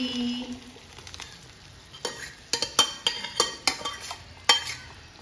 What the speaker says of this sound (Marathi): आता हे सगळं छान मिक्स करूया